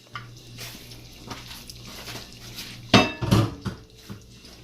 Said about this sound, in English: what I want to do right now is add some onion and then mash it